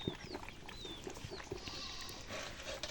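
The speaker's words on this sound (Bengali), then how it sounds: "দেখেন এই ছাগলের বাচ্চাগুলো কত সুন্দর পানি খাচ্ছে" Goat kids bleat faintly in a village farmyard while drinking water, giving a few short high calls over low rustling background noise.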